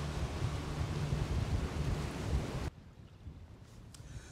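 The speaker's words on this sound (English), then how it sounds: "It's pretty windy." Wind gusts roar across a boat at sea off the Coromandel on a rainy fishing and camping trip, a heavy rumbling buffet that cuts off abruptly partway, leaving faint water and hull sounds.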